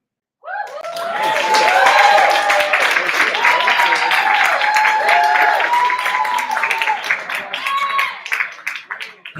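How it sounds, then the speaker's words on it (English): Sustained applause from a large audience at a poetry slam, steady and loud, with cheers and whoops rising over the clapping throughout. "Keep that round of applause going for Addie."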